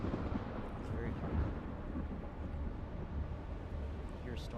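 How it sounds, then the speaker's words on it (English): Approaching storm in the video game Dune, a low, continuous rumble that stays faint and distant, with a voice speaking quietly over it. "I hear a storm coming."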